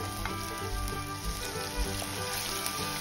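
Onion and tomato sauté in a pan for a village-style clay pot fish curry, a soft continuous sizzle and frying hiss with faint stirring scrapes underneath, quiet and steady throughout.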